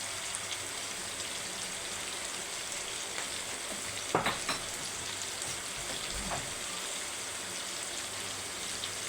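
Beef salad ingredients sizzle steadily in a pan, a constant bright hiss with a few brief scraping stirs near the middle.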